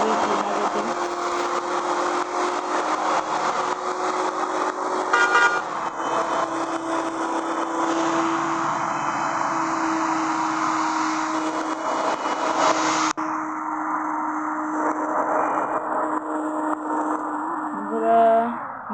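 Steady engine drone and road noise inside a bus travelling from Dhaka to Khulna in Bangladesh, continuous and fairly loud throughout, with a brief shift near the end and no talk.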